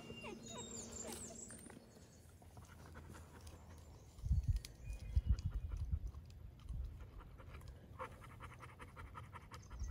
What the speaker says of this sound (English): If you hear all the heavy breathing, minus the dogs, we are so out of shape.